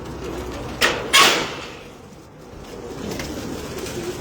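Domestic pigeons in a loft, two sharp bursts of wing flapping or scuffling early on, then a low murmur of cooing and faint background rustle.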